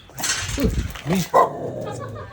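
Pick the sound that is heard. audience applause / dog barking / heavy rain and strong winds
dog barking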